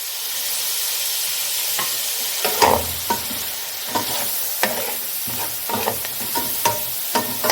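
Dried coriander and red chilli frying in a pan for matar chana pulao, a steady hiss of sizzling oil broken by repeated knocks and scrapes of a spoon stirring the spices.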